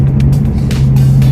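A car engine drones loudly and close up in a short burst, a steady low hum with faint hiss over it and no talking.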